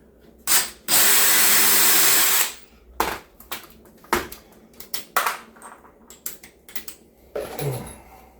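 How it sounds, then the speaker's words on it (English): A power drill driving small screws into a cabinet during a rebuild: a long steady whir up front, then a run of short, sharp bursts and clicks as the driver stops and starts, close and loud with no talk. "Kind of drilled that right a little bit too far"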